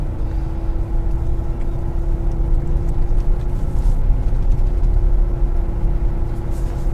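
Cabin sound of a Bestune E05 electric car on a test drive along a highway: a steady low road rumble with a constant faint whine throughout and no speech.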